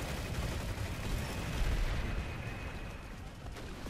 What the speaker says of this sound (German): Eigene Granate.